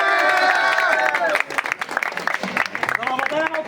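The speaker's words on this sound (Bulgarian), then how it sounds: "Ари малко аплодисменти" Scattered clapping and cheering from a crowd at a live show in Varna, with loud voices and shouting on top at first, then looser, uneven claps breaking through.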